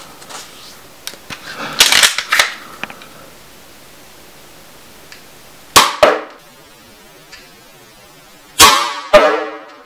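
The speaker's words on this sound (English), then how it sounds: "Next up, we'll be firing genuine Nerf AccuStrike darts." A homemade single-shot spring-powered Nerf pistol fires Nerf AccuStrike darts, giving three separate sharp snapping bursts with brief rattly tails, spaced several seconds apart, loud and close against near silence.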